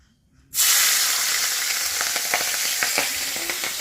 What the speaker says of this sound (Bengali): আজকে মাছগুলো একটু ভাজা করতে হবে ভালো করে